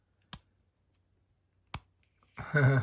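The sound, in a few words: clicking on the switch of an Aponuo solar dock lamp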